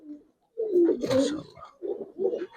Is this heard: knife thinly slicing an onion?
no